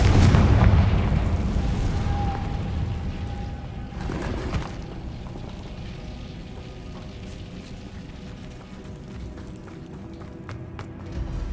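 A Confringo spell explodes in the Hogwarts Legacy video game, a loud booming blast at the start that fades into a long rumbling decay.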